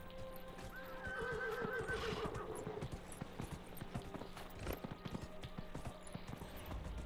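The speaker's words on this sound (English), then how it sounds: "Oh, nice, I've got a horse now" A horse in the video game Dragon Age Inquisition whinnies loudly, a long shrill neigh, then trots off with steady clip-clop hoofbeats that continue beneath game ambience.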